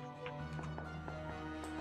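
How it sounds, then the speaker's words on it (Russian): Footsteps in the video game PUBG form a quick, faint series of soft thuds over a steady in-game background hum. "Шаги"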